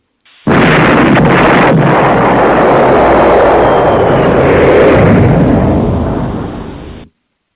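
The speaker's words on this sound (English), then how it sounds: "We drop bombs for that." A loud bomb explosion sound effect, one sustained roaring blast with a sudden onset that rumbles for several seconds before cutting off abruptly.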